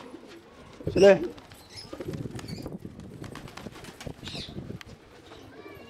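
Pigeons in an open rooftop loft in Karachi, with soft cooing and some wing flapping close by, partly under someone speaking over the birds.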